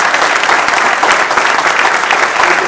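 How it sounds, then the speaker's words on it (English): Loud, sustained round of applause from an audience at an interfaith gathering welcoming a Deputy Assistant Secretary of the U.S. Department of Commerce to the stage; thick, continuous clapping throughout with no speech. "Please invite him up with a loud round of applause."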